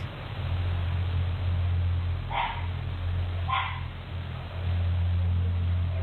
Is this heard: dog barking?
yes